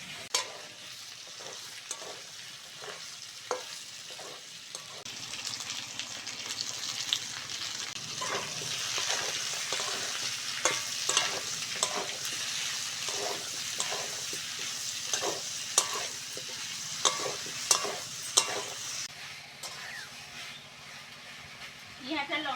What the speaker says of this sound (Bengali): বেগুন আলুটা ভালো করে ভেজে নিয়েছি এইবার দেবো পেঁয়াজ কুচির সঙ্গে কাঁচা লঙ্কা